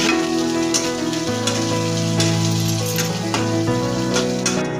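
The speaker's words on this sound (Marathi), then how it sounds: "कट केलेला कांदा आपण चांगला भाजून घ्यायचा" Chopped onion frying in a pan: a dense, steady sizzle with occasional spatters and light stirring taps, loud and continuous with music-like tones underneath, no talking.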